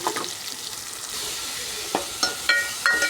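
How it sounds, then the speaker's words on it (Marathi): Finely chopped onion dropped into hot oil with cumin seeds and curry leaves for a Maharashtrian onion amti, a steady close sizzle with stirring scrapes and a few sharp pops, no voices. "बारीक चिरलेला कांदा टाकते."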